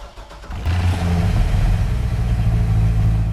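A V8 American muscle car engine in Gran Turismo 6 revs up from a quiet start into a loud, deep, rumbling burble that holds steady to the end. No one speaks.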